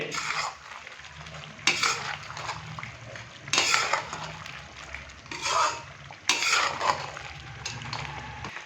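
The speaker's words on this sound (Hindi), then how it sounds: "अच्छे से हम इसको मिक्स करेंगे।" A spoon stirs beef karahi with roasted cumin and whole green chillies in a pot, making several loud scraping sweeps against the metal over a low background sizzle.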